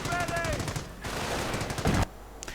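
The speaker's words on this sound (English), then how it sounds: "But more heavy machine gun fire, more mortars are being arrayed against the Panzer Grenadiers" Heavy machine gun fire and mortars in a World War II strategy video game battle against Panzer Grenadiers, heard as a rapid rattling burst under someone commentator's voice, with a sharper blast near the end.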